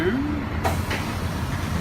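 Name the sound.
riding on city bus number 202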